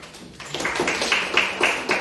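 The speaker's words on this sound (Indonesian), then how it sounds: "Ya, bagus. Tepuk tangan." A classroom of students breaks into applause that starts sparse and quickly builds into a brisk run of claps at moderate volume.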